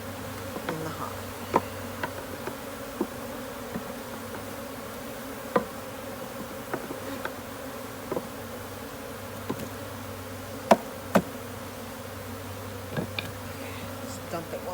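Honeybees buzz steadily around a hive being split, a continuous loud drone with occasional sharper close passes of individual bees and no talking.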